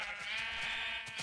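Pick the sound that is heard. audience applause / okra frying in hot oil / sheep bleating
sheep bleating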